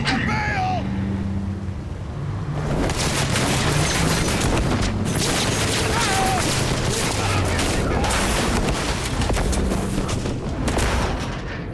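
A concussion grenade goes off in Cyberpunk 2077 combat. The close, heavy blast turns into a roaring, rumbling wash that lasts several seconds over chaotic fight noise.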